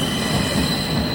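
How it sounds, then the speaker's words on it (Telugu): A train rolls past near London and Kent with a steady loud rumble and a high wheel squeal running throughout, a continuous close pass with no talking. "ట్రైన్ ఉందన్నమాట,"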